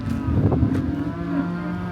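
Cattle in a farm corral moo loudly while waiting for feed, two or three long drawn-out calls close by over a steady low background rumble.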